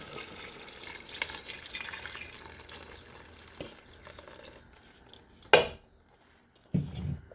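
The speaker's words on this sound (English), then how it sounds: "Now we're going to add the fish stock or the seafood stock." Seafood stock poured into a pot of okra soup makes a steady watery pour that runs for several seconds and then stops, followed by a couple of sharp clanks from the pot.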